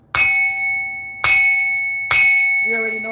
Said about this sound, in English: let me bang this bell